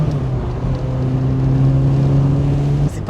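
A Lancia Beta HPE's Italian engine accelerates, a steady loud drone with a rising harmonic tone sustained for about three seconds before easing off.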